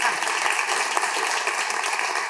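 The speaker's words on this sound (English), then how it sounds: "the amazing Dale Rooks, who deserves a round of applause just for being here" Theatre audience applause at a pre-show talk, a loud, full round of clapping from a crowd sustained evenly throughout, close and continuous with no voices above it.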